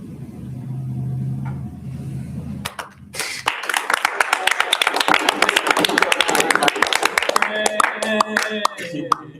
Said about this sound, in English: That was the applause for God, so.